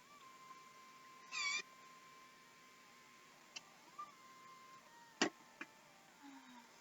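A domestic cat gives a couple of short, faint meows in a quiet room, with a few soft clicks and taps scattered between them.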